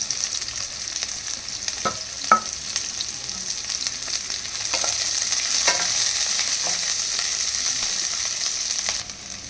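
Sliced capsicum and onion frying in oil in a pan for chilli potato, a steady close sizzle with a few sharp stirring clicks and scrapes throughout.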